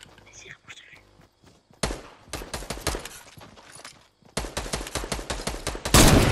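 Gunfire in a battle royale video game, with rapid cracking shots in two long dense bursts separated by a pause, loud and close. A player talks quietly at the start.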